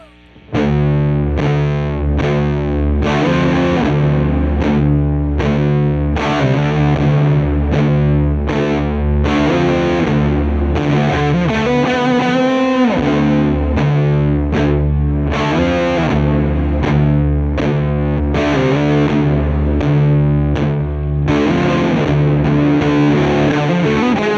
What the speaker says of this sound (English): And then the grittiest of all of them.